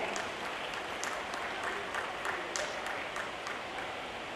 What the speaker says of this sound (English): Can you please have a huge round of applause for them?